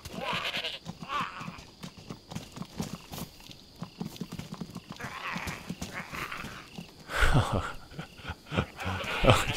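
A goat bleats in the survival video game DayZ, several bleats over rapid hoof clip-clop as it runs from a zombie, with in-game movement noise throughout.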